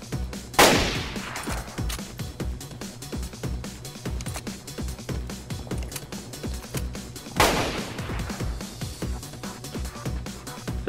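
Gunshots ring out in the survival game DayZ. Two loud, sharp reports stand out several seconds apart over a continuous crackle of quieter shots.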